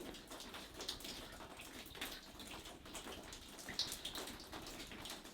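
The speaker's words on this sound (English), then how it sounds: "Sounds like water running." Faint water runs and patters in an underground brewery cellar tunnel, a steady soft trickle with scattered drips and no voices.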